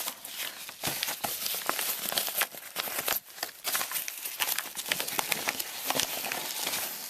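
A package holding a 3x3x3 twisty puzzle cube is cut open up close, with loud crinkling, scraping and tearing of plastic and cardboard in uneven bursts.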